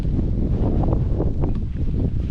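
Wind blows outdoors in Latvia during birdwatching, a loud, constant low rumble of wind buffeting the microphone.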